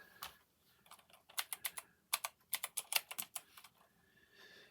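Close, quiet typing on a computer keyboard: bursts of crisp key clicks in quick runs with short pauses between them.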